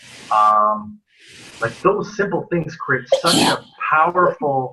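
A single sneeze bursts out at the very start, loud and close, before a person resumes talking.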